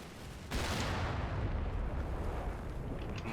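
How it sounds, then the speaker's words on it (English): A massive in-game explosion in Combat Mission: Battle for Normandy as a tank hits a mine and loses its tracks: a sudden loud blast followed by a long, dense roaring rumble with no talking. "Massive explosion."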